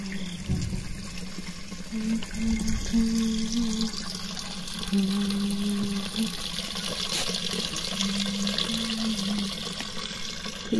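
Water runs from an outdoor tap into a vessel in a Himachali mountain village, a steady broadband rush that carries on throughout with faint harmonic hums and small splashing surges.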